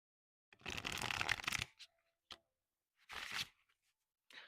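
Oracle deck cards are shuffled up close in two quick riffling bursts with a few soft taps and flicks between them, heard alone in a quiet room.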